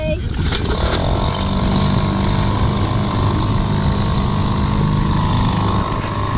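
A sailboat's engine runs steadily and loudly throughout, a continuous low droning hum with a constant mechanical drone, close by and unbroken, on a Hallberg-Rassy 54 sailing yacht off St. Lucia.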